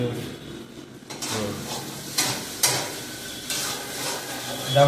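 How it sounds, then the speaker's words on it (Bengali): Iftar food being fried and stirred in a pan, with a steady sizzle, metal utensil scrapes and clinks of cookware, fairly close and continuous. "আজকের ইফতারের কিছু হালকা পাতলা রান্না করতেছি।"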